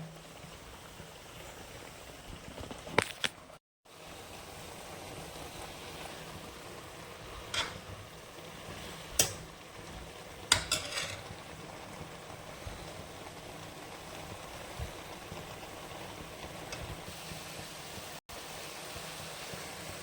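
Drumstick leaves stir-frying with onions in a pan, a soft continuous sizzle and hiss with occasional faint clicks and utensil taps.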